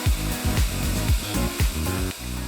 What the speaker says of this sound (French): La carotteuse est maintenant allumée, on peut venir commencer à percer en arrosant.